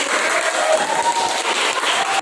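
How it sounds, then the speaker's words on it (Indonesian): A classroom of students applauds group 1, a steady dense patter of many hands clapping together for a couple of seconds before cutting off. "tepuk tangan buat kelompok 1"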